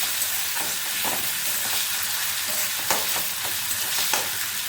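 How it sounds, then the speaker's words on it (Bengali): Grated onion frying in oil for a Bengali katla kaliya fish curry, a loud bright hiss of sizzling with repeated scraping stirs and small pops, close and continuous, no talk. "পেঁয়াজটা কয়েক সেকেন্ড একটু ভেজে নেব"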